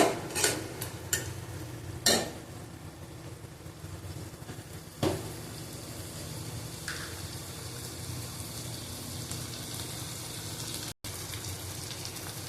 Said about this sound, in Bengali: 100 মতন চিংড়ি মাছ দিয়ে দিলাম, আবার ভালো করে কষিয়ে নেবো।